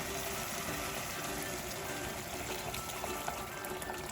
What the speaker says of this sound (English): she is going to add some hot water now